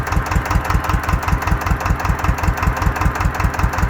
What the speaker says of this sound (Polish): normalna praca silnika